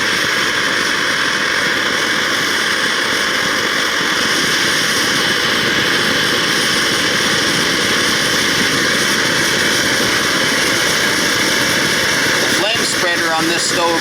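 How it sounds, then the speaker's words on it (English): An MSR Firefly camping stove burner roars loudly and steadily at full flame, a constant breathy rumble with a slight helicopter-like throb, running unbroken throughout. "When I really open this stove up, it has a unique sound."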